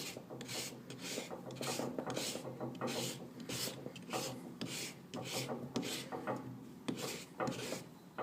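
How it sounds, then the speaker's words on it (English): A hand rasp files a carved plaster sculpture in steady back-and-forth strokes, about two per second, giving a close, continuous rough scraping with no talk over it. "You can see that the rasp is pretty much coming in the same direction all the time."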